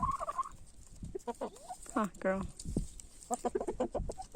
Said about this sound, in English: She is small, but she's the biggest hen.